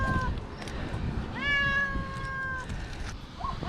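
A cat stuck in a tree meows during its rescue: a short cry, then a longer drawn-out meow, and a brief final call, with low background rustling between them.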